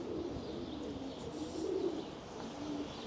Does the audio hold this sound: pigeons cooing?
yes